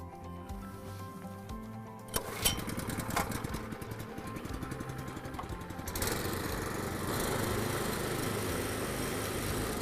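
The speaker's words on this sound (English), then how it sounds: "The Snow Bull by Oric packs a great deal of snow pushing punch for its convenient, compact size" A compact Oric Snow Bull snow plow's small engine runs steadily and close by, a continuous mechanical drone with a brief rattling burst partway through, then a slightly louder, even hum.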